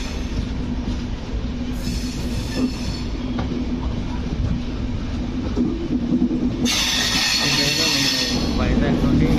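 Express train from Visakhapatnam to Kazipet rolls slowly through Dornakal Junction at night, heard from on board as a steady rumble with clattering wheels and a brief squeal, while voices talk faintly in the carriage.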